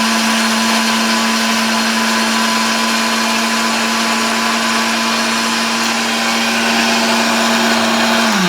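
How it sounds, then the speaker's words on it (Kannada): A kitchen mixer jar grinds a soup premix into fine powder, a loud, steady motor drone with a constant hum and rattling whir running close throughout, slowing slightly at the very end. "ಇವಾಗ ನಾನು ಇದನ್ನು ಒಂದು ಜಾರ್ಗೆ ಹಾಕಿ ನೀಟಾಗಿ ಫೈನ್ ಪೌಡರ್ ಮಾಡ್ಕೊತೀನಿ"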